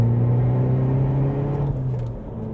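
Close by, an Alfa Romeo Mito's engine drones under acceleration as a steady, fairly loud hum with a low rumble, easing off slightly toward the end.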